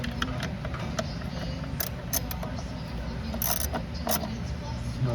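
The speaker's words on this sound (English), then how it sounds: "Okay, ratchet, tighten it up." Ratchet tightening the throttle body bolts on a 2016 Nissan Altima, giving short bursts of clicking over a steady low mechanical hum with no talk.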